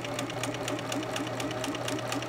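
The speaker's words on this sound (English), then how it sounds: "You're going to sew forward, back stitch to lock it in." A sewing machine stitches fabric forward and then back-stitches, a steady rapid mechanical whir with an even needle-beat rhythm, close and continuous without any voices.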